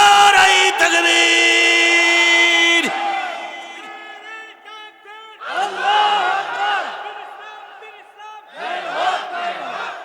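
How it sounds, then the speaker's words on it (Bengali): A large crowd at a religious gathering shouts the takbir chant in loud, ragged bursts of many voices, following a long sustained tone, with the chant swelling twice. "জোরে একটা তাকবীর হবে"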